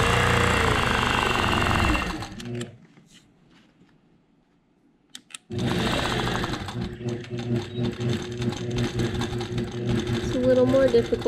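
A longarm quilting machine stitches a memory quilt in loud, rapid rhythmic chattering bursts, stops for a few seconds of near silence, then resumes.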